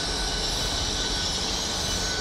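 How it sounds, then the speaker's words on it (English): A ten-coach double IET Class 802 train pulls out of Exeter St David's, a loud close continuous rumble of wheels on rail with a faint high squeal and no voices. "Railway service to Plymouth, formed of a double IET, so 10 coaches long"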